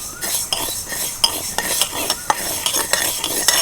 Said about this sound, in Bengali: শুকনো কড়াইয়ের মধ্যে দিয়ে দিচ্ছি তিন চামচ সাদা সর্ষে